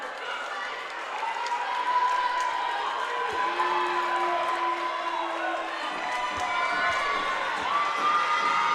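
A crowd at a girls high school volleyball quarterfinal cheers and shouts continuously, with children's voices and whoops in a loud sustained roar that swells midway, a whistle-like tone briefly sounding through it.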